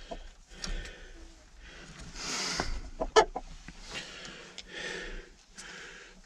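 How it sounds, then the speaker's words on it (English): Hens in a chicken coop give scattered soft clucks and short squawks, one sharper call partway through, close by amid rustling and quiet pauses. "Check on all the chickens, make sure we still got 7, and collect the eggs."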